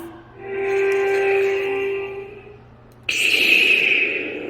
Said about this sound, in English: You can hear the wind blowing in the background